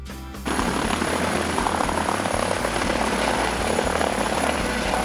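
A helicopter flying starts in abruptly and then drones on close and loud, its rotor thumping in a steady rhythm alongside a constant engine whine, with no talk.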